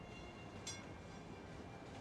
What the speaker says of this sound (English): They're all catching the tram.